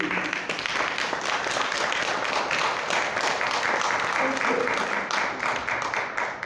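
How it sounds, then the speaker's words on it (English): Steady, dense applause from an audience at a documentary film screening about Black Wall Street and the Greenwood Avenue Project, honoring producer Karen Reese and her team. It fills the room evenly for several seconds, with a few voices mixed in. "give her another round of applause and her team for putting this documentary together"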